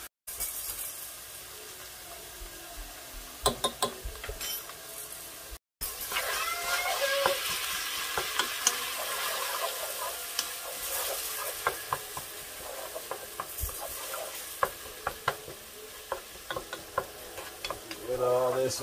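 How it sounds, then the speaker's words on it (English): Dirty rice browning in a pan, a sizzle broken by repeated scraping stirs and clicks of a utensil, close and fairly busy, with a brief cut early on. "Get all this incorporated and mixed up, browned real good."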